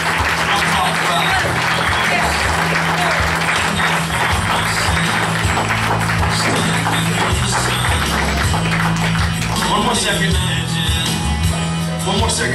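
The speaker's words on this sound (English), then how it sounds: "Give her a big round of applause, guys." Congregation applause during a Baptist church altar call in Silsbee, Texas: sustained loud clapping over a continuous musical backing, with voices mixed in throughout.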